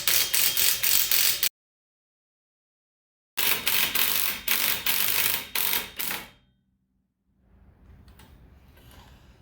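Car lug nuts of 19mm loosened during a tire rotation, a rapid ratcheting clatter in two loud bursts separated by silence, followed by a faint rustling tail.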